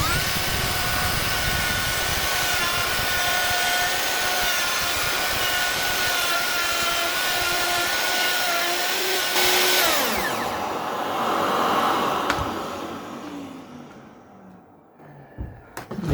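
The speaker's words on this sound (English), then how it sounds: "cut my first mortise properly this time" A power tool cuts a mortise in wood during a bed build, with a loud steady whine for about ten seconds before it winds down and fades into quiet.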